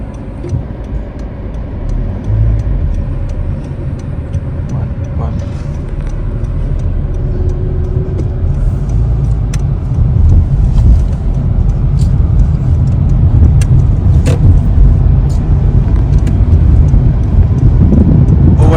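Interior road noise from a car on a driving-test route in Peterborough, Ontario, a loud continuous rumble that builds as it gathers speed, with the faint ticking of a turn signal and no voices.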